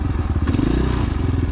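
Cheap 250cc dirt bike running on icy road, its engine loud and close with a steady rapid thumping drone throughout as the rear slides around; no talking.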